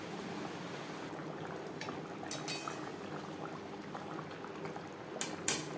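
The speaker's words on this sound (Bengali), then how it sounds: "গ্রেভি বেশ ভালো করে ফুটতে শুরু করে দিয়েছে।" Yogurt-based curry gravy for doi katla at a rolling boil in a pan, a quiet, continuous bubbling with occasional soft pops and a couple of faint clinks.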